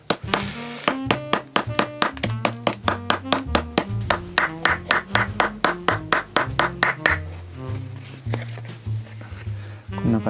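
A hammer taps along the sewn leather seam of a shoe counter upper to flatten it open, about thirty sharp, evenly paced knocks close by, slowing and softening toward the end.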